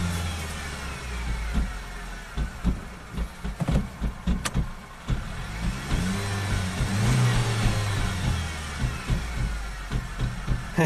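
A flood-damaged Ford Focus with a dual-clutch transmission revs in repeated bursts while trying to move, straining with mechanical clunks and whirs, loud and close.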